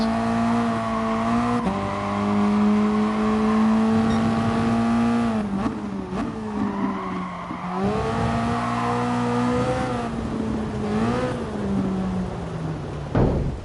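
Race car engine from a racing game on a Brazil circuit, its harmonic whine holding steady, then dropping and climbing through gear changes and corners, loud and continuous with no talk.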